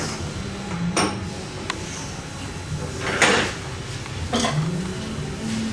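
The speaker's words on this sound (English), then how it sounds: "Put my little lock washer in the vise." A small lock washer being clamped into a metal vise in a workshop, a few sharp metallic clicks and knocks spaced a second or two apart over a steady background rumble.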